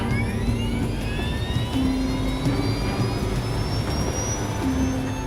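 Boeing 747 jet engines spooling up during an emergency descent: a steady loud roar with rising whining tones, continuous throughout, with no speech.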